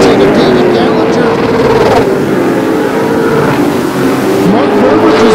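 Pro Late Model race cars lap Flamboro Speedway in a steady, loud engine drone that rises and falls as the pack circles, with a commentator's voice running over the top.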